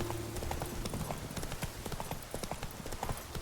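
Roach the horse trots in The Witcher 3, hooves clip-clopping in a quick, steady rhythm, close and clear over a low game background.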